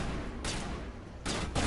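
Gunfire in the Mass Effect video game: two dense bursts of shots, the first brief and the second longer, swelling louder toward the end over a low rumbling backdrop.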